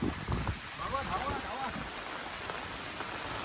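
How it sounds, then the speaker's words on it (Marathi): Rain pours steadily at a Gaganagiri Maharaj math in Khopoli, with gusts of wind buffeting the microphone, a broad constant hiss close by and a brief voice near the start. "हा बघा हा इकडं असा पाऊस पडतोय"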